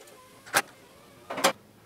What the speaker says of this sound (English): We're going to use our impact wrench to lightly tighten these.